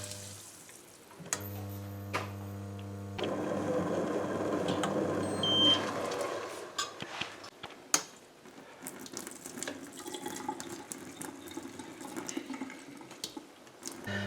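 Water running from a tap and pouring into a saucepan in a home kitchen while making homemade lemon wine with lemon zest, a steady splashing flow for several seconds followed by lighter clinks and trickles.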